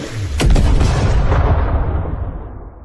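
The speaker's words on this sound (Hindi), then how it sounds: "अगले ही पल एक जोरदार धमाका होता है।" A loud bomb explosion bursts near the start, a sharp blast that rolls into a long, heavy rumbling decay fading over the next couple of seconds.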